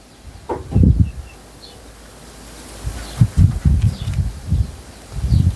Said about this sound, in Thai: ลมลมแรง